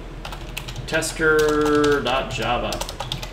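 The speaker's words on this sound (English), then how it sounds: "And I'm going to type in notepad" Quick keystrokes on a computer keyboard while typing in Notepad, a steady patter of close clicks running throughout, with someone speaking over part of it.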